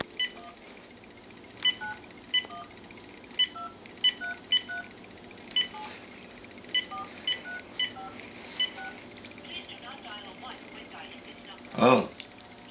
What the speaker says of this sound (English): Well, I got to make a phone call here.